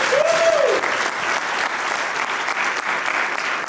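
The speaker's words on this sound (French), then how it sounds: "On peut les applaudir." Audience applause at a technical-analysis trading fair in France, a steady dense wash of clapping throughout, opening with a brief whoop or whistle.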